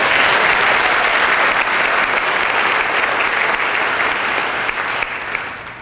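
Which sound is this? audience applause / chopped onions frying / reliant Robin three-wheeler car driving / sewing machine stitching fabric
audience applause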